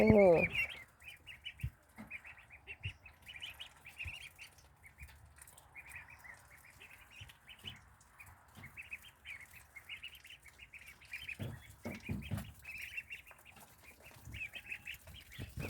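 Faint, steady peeping of ducklings eating azolla, high thin chirps repeating throughout, with soft rustling and a few louder bumps in the background.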